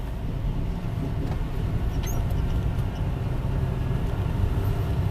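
A tractor-trailer truck driving slowly on a rough road, a steady close low engine rumble and road noise that holds evenly throughout with no voices.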